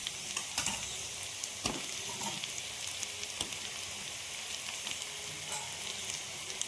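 Onion, garlic and ginger fry in hot oil in a pan, giving a steady sizzle with occasional sharp pops and crackles that run throughout, moderately close and with no speech.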